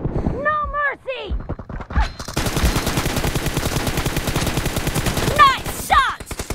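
Rapid gunfire from a mobile battle royale shooter game, a dense sustained burst of automatic shots running through most of the stretch, with excited voices talking over it at the start and end.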